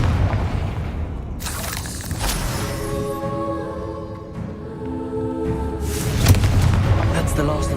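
A Confringo fire spell bursts in Hogwarts Legacy with several booming, crackling blasts spread across the span, the loudest near the start and again toward the end, over a continuous layer of game sound.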